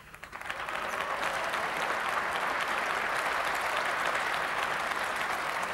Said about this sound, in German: den Beifall dürft ihr genießen.